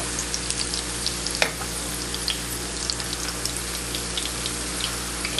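Chicken taquitos fry in hot oil with a continuous close sizzle, peppered with small crackles and pops and one sharper snap early on, steady throughout with no talking.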